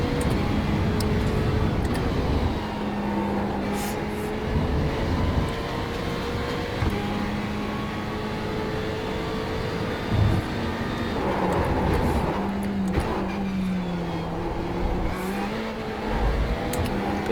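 A Ferrari GT3 race car engine in the iRacing simulator drones and revs through a lap, steady loud tone rising and falling with gear shifts and brief dips under braking.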